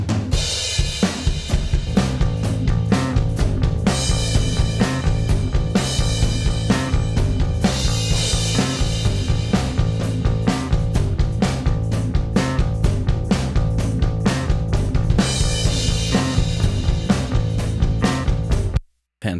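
A full rock drum kit, mixed through parallel processing with combined sub mixes, plays a steady driving beat, loud and punchy throughout before cutting off abruptly near the end.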